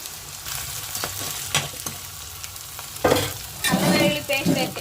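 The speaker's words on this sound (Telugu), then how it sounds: "ఈ అల్లం వెల్లుల్లి కొబ్బరి పేస్ట్ బాగా పచ్చివాసన పోయేంత వరకు ఫ్రై చేసుకుని తర్వాత మనం కార్జం ముక్కలు వేసేసుకున్నామండి" Mutton liver pieces frying in ginger, garlic and coconut paste, with steady close sizzling, stirring scrapes and louder bursts of crackle as the pan is worked.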